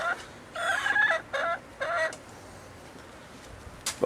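Chickens cluck at the entrance to a hen house on an urban farm, with four short bursts of clucking in quick succession followed by a brief sharp call near the end, all fairly quiet against a calm background.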